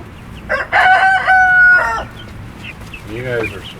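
Welsummer chickens in a backyard coop let out a close, loud rooster crow with a drawn-out middle note, followed by softer clucks and murmurs from the flock.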